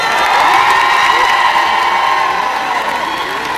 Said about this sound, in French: un tonnerre d'applaudissements, s'il vous plaît, pour monsieur Fally Ipupa